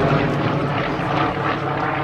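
A Morane-Saulnier D-3801 fighter plane on a landing approach at an air show, its propeller engine a steady, loud broadband drone with no break, heard alone.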